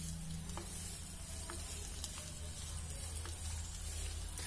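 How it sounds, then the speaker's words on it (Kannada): Betel leaves sizzle and crackle in hot ghee in a pan that has just come off the heat. The frying hiss is steady and close throughout, with faint stirring clicks and no talking. "ತುಪ್ಪ ಕಾದಿದೆ ನಾನು ಆಫ್ ಮಾಡಿ ಎರಡು ವಿಳ್ಯದೆಲೆ ಹಾಕ್ತಾ ಇದೀನಿ"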